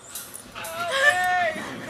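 Baby goats on a farm cry with short, high bleats close by, one drawn-out wavering call standing out amid faint background noise.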